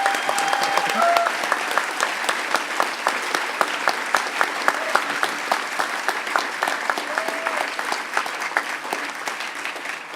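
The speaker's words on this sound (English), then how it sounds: "huge round of applause" A conference audience at the closing ceremony of The Next HOPE hacker conference in 2010 bursts into sustained clapping, dense and lively for about ten seconds, with a few brief tonal sounds over it.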